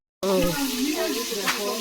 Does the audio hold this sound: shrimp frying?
yes